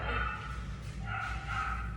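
Dogs bark in the background during indoor puppy obedience training, short yips and bow-wow barks rising and falling over a steady hum, moderately distant with no clear talk.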